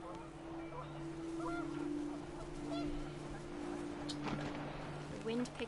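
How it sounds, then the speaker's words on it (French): Panicked geese honking in the video game What Remains of Edith Finch, several raucous honks scattered over steady wind and a low droning hum, moderately loud, with a voice talking over them. "The wind picked up, and panicked geese appeared"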